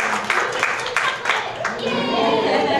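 A classroom of students clapping for a classmate during a decoding-skills lesson, a few distinct claps followed by denser clapping, close and moderately loud with voices mixed in.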